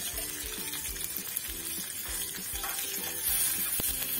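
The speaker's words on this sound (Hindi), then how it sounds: "अच्छे से चटकने देते हैं हम कड़ी पत्ता को और राई को।" Mustard seeds, curry leaves and a dried chili crackle and sizzle in hot oil, with a steady hiss broken by scattered pops and a sharp crack near the end, heard alone at close range.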